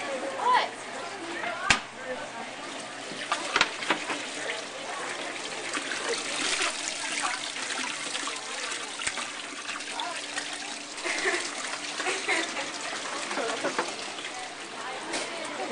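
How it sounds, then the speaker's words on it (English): Water poured from a gallon jug into a classroom fish tank, a continuous splashing trickle running for several seconds under people talking, with a few sharper knocks early on. "now dumping the gallon jug full of water into"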